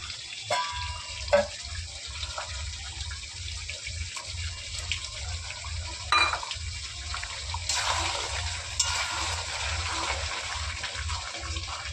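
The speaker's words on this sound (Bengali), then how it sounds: "দেখো এখানে আমি গ্রেভির জন্য কিছুটা গরম জল দিয়ে দিয়েছি।" Hot water poured into chicken gravy cooking on the stove: a soft, continuous watery pour and splash, close and moderately quiet, with a low hum underneath and a few small clinks, and no voices.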